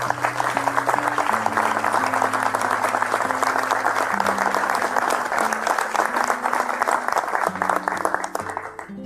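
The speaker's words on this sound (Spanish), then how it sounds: "Gracias por el aplauso" A large crowd applauds steadily and loudly throughout, with sustained low musical tones playing underneath the clapping.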